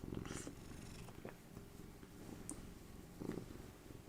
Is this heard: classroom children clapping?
no